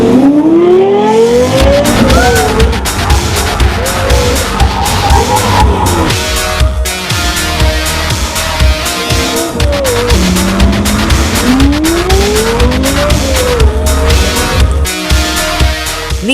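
A Lexus LFA sports car drives hard, its high-pitched engine revving and rising through the gears with tire squeals. The car is loud and close throughout, with no talking.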